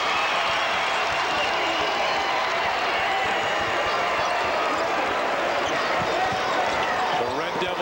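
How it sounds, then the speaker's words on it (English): Red Devil cheering section on their feet cheering at a 1997 Illinois high school boys basketball quarterfinal, a steady loud crowd roar filling the gym with sneaker squeaks and court noise underneath, sustained throughout. "The Red Devil cheering section on their feet as they do take the lead."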